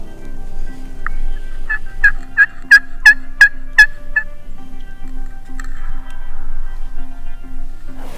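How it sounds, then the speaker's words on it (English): A nervous wild turkey gobbles in a quick rattling burst of several notes, fairly close, over a low steady background hum, in the Midwest. "These birds are getting a little nervous."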